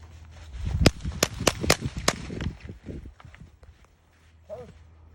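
A raised gun fires during a shooting class drill at an outdoor range, with several sharp, loud reports spaced in a quick uneven sequence, followed by quieter shuffling and voices.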